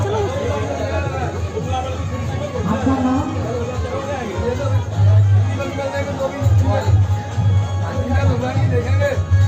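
Crowd of visitors at Nidhivan in Vrindavan, a dense, close hubbub of many overlapping voices with steady murmuring chatter throughout.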